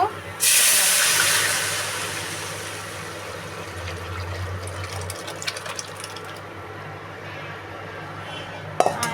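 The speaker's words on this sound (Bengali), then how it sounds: "ডালটা তো বাগার দিয়ে নিচ্ছি ডাল এখন ডাল ছেড়ে দিব" Boiled lentil dal poured into a hot tempering bursts into a loud hiss and sputter that slowly fades into a steady simmering sizzle, with a clatter near the end and no talk.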